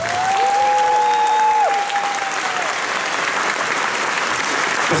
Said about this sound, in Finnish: annan taas bändille oikein kunnon aplodit